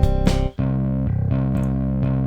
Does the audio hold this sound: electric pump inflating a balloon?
no